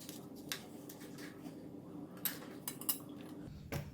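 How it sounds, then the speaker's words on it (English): A spoon scrapes the seeds out of a halved bitter gourd, giving soft repeated scraping and squishy digging strokes with light clinks of metal, fairly quiet and close, with no voices. "just going to dig it into the bitter gourd inside and remove the seed just like that"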